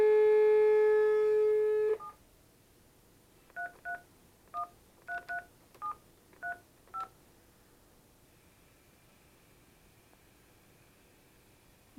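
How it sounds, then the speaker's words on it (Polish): A short run of about eight keypad dialing beeps in an uneven rhythm on a phone connected to a Panasonic KX-206 PABX, preceded by a steady dial tone that cuts off, then quiet hiss. "Wciskamy 0 i wybieramy numer."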